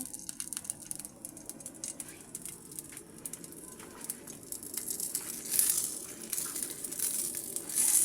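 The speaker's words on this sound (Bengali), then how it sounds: "আমি এখানে একটা ফ্রাই প্যানের উপরে কলা পাতা দিয়ে দিচ্ছি" A banana leaf is pressed and crinkled onto a frying pan, making close, irregular crackling and rustling with light clicks, growing busier and louder toward the end.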